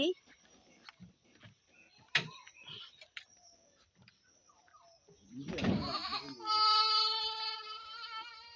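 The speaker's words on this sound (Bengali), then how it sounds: "তিনটে ছাগল বাইরের দিকে আছে বলে চিৎকার করছে" Three goats bleat close by, one long wavering cry rising near the end after scattered clicks, rustles and a few spoken words.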